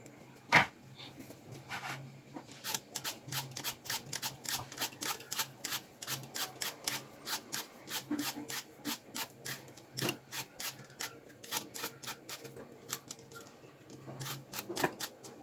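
Apples are peeled by hand for a woven-top apple pie filling, a steady run of quick rasping scrapes from the peeler on the fruit, close and quiet, repeating in short rhythmic strokes.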